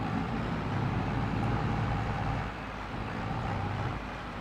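Tractor in Farming Simulator 22 straining to pull trees: a steady, heavy low engine drone that dips slightly partway through, with no talking.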